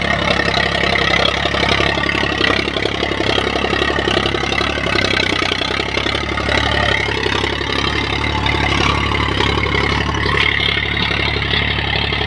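A tractor engine running without a silencer, a loud continuous rough rumble with steady mechanical clatter, close and unbroken throughout.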